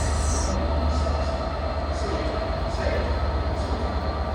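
Steady rumbling train noise heard from inside a busy Transport for Wales Premier Service carriage between Crewe and Manchester, with continuous low roar and faint periodic rattles, loud and close throughout.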